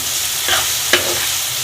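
A spoon stirs cashews into softening tomatoes in a pan for butter chicken, with two distinct scraping strokes over a steady low sizzle.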